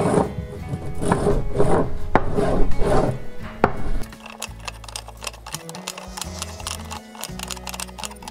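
A block of beeswax is rubbed onto a wooden top bar for a top bar beehive, making dry scraping and rubbing strokes for several seconds before quieter tapping and faint ticking follow.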